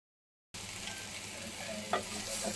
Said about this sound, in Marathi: आता हे आपलं सगळं झालेलं आहे मसाला भाजून